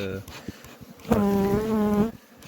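A close, loud honeybee buzz with a steady tone lasts about a second, preceded by faint rustling and murmur.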